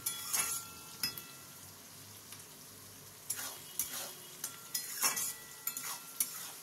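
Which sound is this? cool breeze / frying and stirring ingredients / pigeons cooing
frying and stirring ingredients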